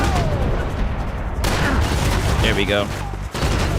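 Gunfire rattles in a video game: dense bursts of automatic shots and heavy booms crowd the mix and then cut off abruptly. Someone speaks briefly over the shooting.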